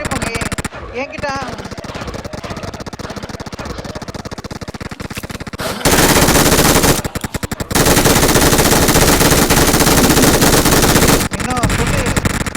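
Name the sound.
gunfire in a video game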